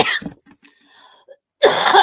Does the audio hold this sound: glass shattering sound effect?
no